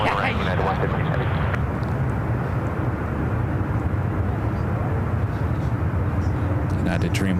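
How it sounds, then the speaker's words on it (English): A United Boeing Dreamliner taxis out toward the 28 runways at SFO, a steady loud engine roar that holds throughout, with talk over it. "United Dreamliner heading out to the 28s."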